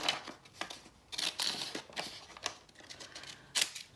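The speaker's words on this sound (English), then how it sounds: "I'm just going to use the scissors for this one because it's hard to tear" Scissors snip through a tiny thin strip of journal paper in a series of short, crisp cuts and rustles at close range, with no voices.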